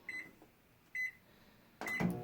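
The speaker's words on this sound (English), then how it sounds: "Now we're going to use the microwave to melt this." A kitchen microwave oven set up to melt chocolate gives three short, bright keypad beeps spaced about a second apart, and a louder burst of noise follows as it starts.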